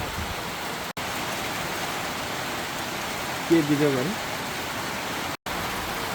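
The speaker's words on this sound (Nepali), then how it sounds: "भर्खरदेखि पानी पर्न सुरु भएको, एकैचोटि ठुलो पानी परिदियो।" Heavy autumn rain pours down in a remote village in Ilam, Nepal, making a steady, loud, even hiss throughout, with brief speech partway through.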